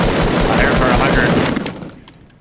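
Automatic gunfire in Fortnite Battle Royale duos, a dense loud burst of rapid shots lasting over a second before trailing off into fading echoes.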